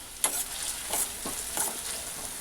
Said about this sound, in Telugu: ఆనియన్ కొంచెం పచ్చివాసన పోయేంత వరకు వేయించాలి.